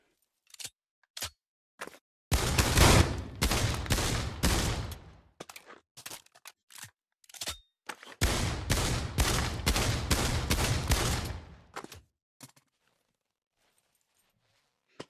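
Rapid bursts of gunfire from a range of weapons in the VR shooter Pavlov VR, fired at a gun range: two long sustained volleys with scattered single shots before, between and after, loud and close with no talking.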